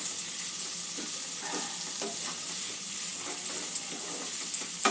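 Cauliflower is stir-fried with spices in a pan: a continuous close sizzle broken by irregular scrapes and soft knocks of stirring, with no one talking.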